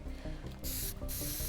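Marking spray from a can in the video game Teardown, two bright hissing bursts over a dense, busy game background.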